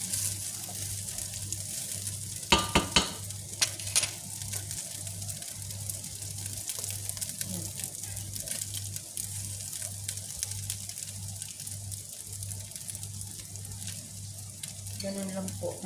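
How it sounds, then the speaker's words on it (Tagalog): Potatoes being stirred gently in a frying pan while making figatah: a soft, continuous sizzle under a low steady hum, broken early on by a brief cluster of sharp clatters, with a faint voice nearby. "Haluin natin dahan-dahan para hindi madurog yung patatas."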